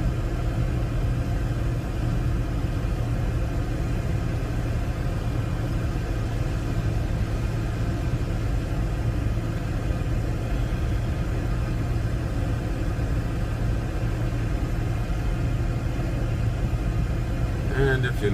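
Boat engine running steadily on Mobjack Bay, Virginia, a continuous low rumbling drone heard close and unchanging throughout.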